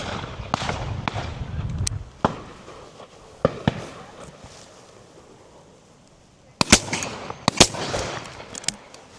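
Shotgun shots ring out at a pheasant and partridge shoot, several sharp loud reports spaced apart and a quick cluster near the end, with people talking between shots outdoors.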